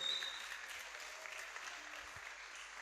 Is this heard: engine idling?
no